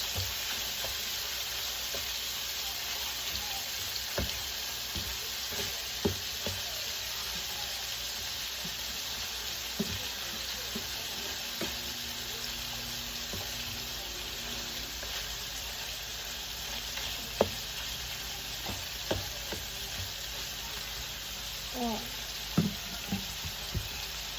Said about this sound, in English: I can slide my hamburger right back over to that side and let it start cooking. Up and down the stove a little bit since grease is popping.